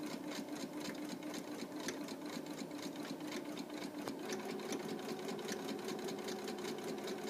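A sewing machine stitches along the center front and back seams of fabric shorts, a steady, fast, close mechanical whir and rattle running continuously throughout.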